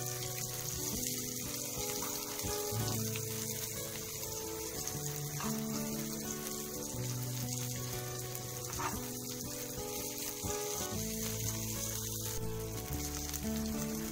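Prawns coated in semolina sizzle steadily in a hot frying pan, a continuous crackling fry that runs on without a break, with a faint background hum.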